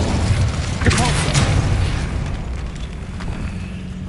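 Repulsor spell cast in the Hogwarts Legacy video game, a loud burst that swells early and then decays into a rumbling tail, alone with no talk.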